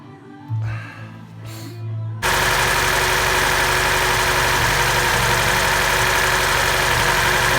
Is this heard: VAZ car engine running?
yes